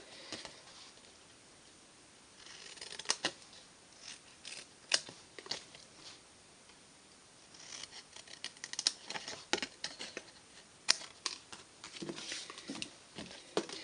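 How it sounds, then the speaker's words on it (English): Scissors snipping pieces out of card for a popcorn box: quiet, close, irregular clicks and crisp cuts, sparse at first and then coming in quicker clusters, with no voices. "So I can then just snip those pieces out."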